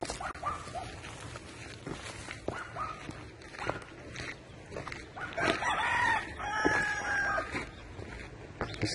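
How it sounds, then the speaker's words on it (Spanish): A rooster crows in the distance at a rural crime scene in Pénjamo, its drawn-out call rising over faint outdoor ambience, footsteps and other fowl sounds. "acabamos de escuchar hasta el triste cantido de un gallo"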